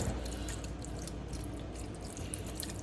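Marinade is poured over cheap steak on a griddle, giving a soft continuous trickling and light dripping at a steady level with no talk.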